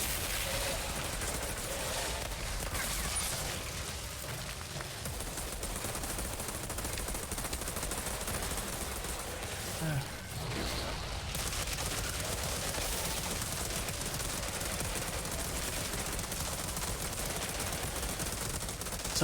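Gunfire from the video game Outriders chatters steadily in rapid, sustained automatic bursts, fairly quiet, with occasional speech over the shooting.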